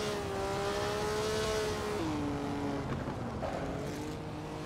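A 1957 Maserati race car idles and pulls slowly out of Monaco's turn 1, its engine a steady close drone that drops in pitch with a gear change before settling into a low, even run.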